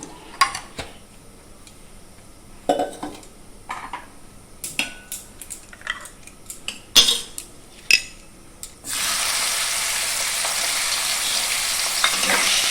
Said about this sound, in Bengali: চিংড়ি মাছটাকে হালকা করে ভেজে নেব